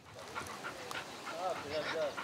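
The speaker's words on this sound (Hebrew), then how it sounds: "כלבה פצועה" A wounded dog whimpers in a house, with several thin, rising whines near the end over a background of voices and indoor noise.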